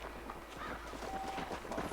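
Hooves of a horse clop along in the Western video game Red Dead Redemption, a quick, dense patter of steps with some rustle, close and fairly loud.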